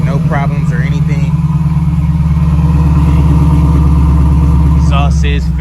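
A Camaro engine idles through its exhaust with a steady, quiet, low rumble that stays constant throughout, while a person talks over it.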